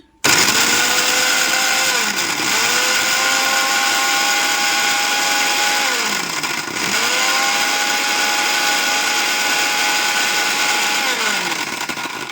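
A mixer grinder runs loud and close with a high whirring motor. Its pitch dips and rises again a few times as the contents shift.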